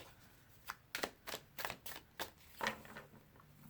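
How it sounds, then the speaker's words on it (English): Tarot cards shuffled by hand in a quiet room, a string of soft, quick riffling bursts and taps coming in short irregular clusters, close but faint, with no talking. "One more quick little shuffle."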